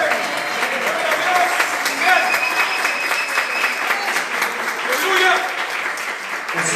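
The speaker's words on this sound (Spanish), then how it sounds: "Demos un aplauso." Loud, sustained applause from a church congregation, dense clapping from many people that swells and holds throughout.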